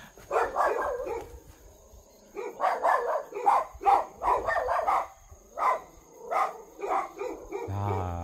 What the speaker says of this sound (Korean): 집집마다 개가 다 짖어대네